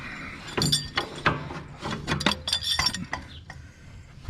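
A Craftsman tractor mower deck assembly drops down during a winter-to-spring changeover, giving a series of sharp metallic clanks and clinks at close range, scattered irregularly over several seconds with quieter rattles between.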